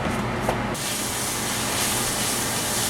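Half a pound of bacon cut into small pieces frying in a pan, a loud steady sizzle and hiss with no break throughout.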